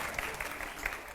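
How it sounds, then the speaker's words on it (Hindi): Brief, faint applause rises from an audience during a question round, a soft, even patter of clapping lasting only a moment. "जोरदार तालियां हो जाए पहले एक बार"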